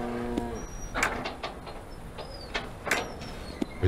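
Cattle mooing in the horror video game Greyhill Incident, a short low call at the start amid dark ambient game sounds with faint whooshes and clicks.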